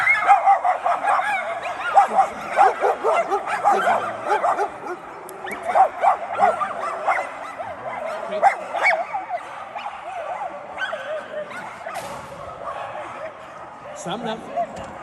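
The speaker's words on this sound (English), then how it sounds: "he'll go to alert system, which means he starts barking" A Giant Schnauzer police K-9 barks in quick, repeated yips and woofs that taper off, close by, with someone talking around and between the barks.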